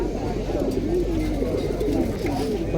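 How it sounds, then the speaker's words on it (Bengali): Pigeons coo in soft, repeated rolling calls at a pigeon market in Fatullah, close and steady against a low murmuring background. "ভাইয়ের কাছে তো অনেক কবুতর আছে, সুন্দর সুন্দর কবুতর আছে।"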